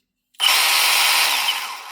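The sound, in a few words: Milwaukee M18 CHX rotary hammer drill running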